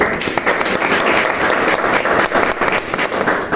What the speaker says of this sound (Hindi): तो एक बार आप बहुत ताली स्वागत करिए सर